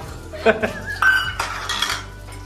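Plates and dishes clink and clatter as they are set out in a home kitchen, with several bright ceramic knocks and a short scraping ring close by over about two seconds.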